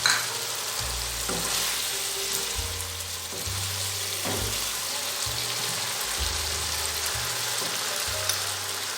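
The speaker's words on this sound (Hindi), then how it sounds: "अब हम इसके साथ थोड़ी सी सब्ज़ मिर्च ऐड करते हैं और थोड़ी देर के लिए भून लेंगे" Potatoes and meat frying with green chili in a pot for aloo gosht, a steady close sizzle with repeated stirring scrapes and low knocks against the pot, no one talking.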